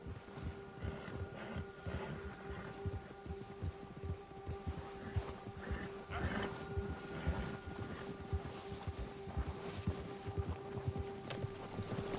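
Horse hooves clip-clop at a steady trot in a Western open-world video game, fairly quiet under a faint ambient bed with a low steady hum.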